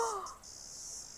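A cicada singing near Takapuna Reef among pohutukawa trees, a thin high continuous buzz that stays steady and faint throughout, with a brief lower whistle at the very start.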